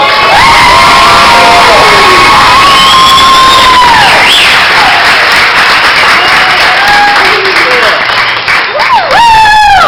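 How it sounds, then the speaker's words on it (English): Christmas event audience bursts into loud applause and cheering for an introduced woman, a dense roaring wash of clapping with high shrieks and whoops from children and adults, sustained at full volume throughout. "Let's give a big round of applause for Vicki Miranda"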